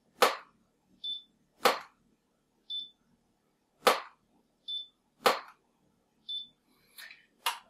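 A Godox AR400 ring flash fires repeatedly at half power, giving sharp loud clicks about every one to one and a half seconds. Fainter high-pitched recycling beeps sound between the clicks, with no voices.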